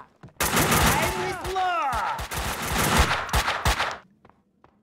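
Rapid bursts of gunfire in the video game Max Payne 2, loud and close, with sharp repeated shots packed together over several seconds while someone shouts, then cutting off to near silence with a few faint stray shots.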